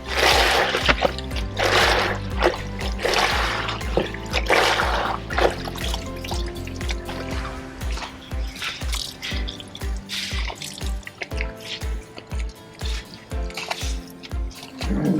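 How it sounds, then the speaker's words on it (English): Soapy, dirty rinse water from laundry being wrung out by hand aboard a sailboat, pouring and splashing at first, then breaking into a rhythmic series of close, distinct drips. "rinse stage of laundry when it's still full of soap and dirty water, so you gotta wring it out"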